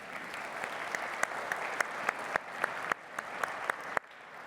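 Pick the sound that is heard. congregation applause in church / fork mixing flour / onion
congregation applause in church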